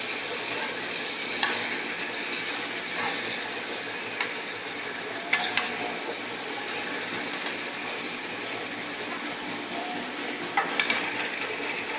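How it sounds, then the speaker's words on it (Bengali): Climbing perch and tilapia fish sautéing with spices in a pan, a steady soft sizzle with a few faint scrapes and clinks of a utensil against the pan. "কহি দিয়া তেলাপিয়া মাছ দিয়া কহিটা সুন্দর করে কষিয়ে নেব"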